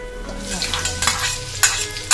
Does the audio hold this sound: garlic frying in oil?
yes